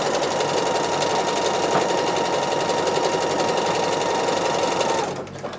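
A sewing machine stitching neck patches by free-motion quilting, a loud rapid mechanical chatter running unbroken for about five seconds before stopping abruptly.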